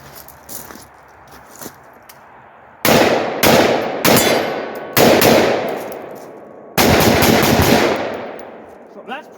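Loud rifle shots from a rifle fitted with a muzzle brake, sharp concussive blasts, several fired in quick bursts with ringing echo between, very close.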